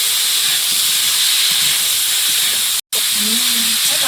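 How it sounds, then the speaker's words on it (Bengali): Taro pieces fry in hot oil in a pan on a home kitchen stove, giving a loud continuous sizzling hiss close by with a brief break, while a voice murmurs faintly underneath. "কচুটা ভালো করে ভাজা হয়ে গেছে"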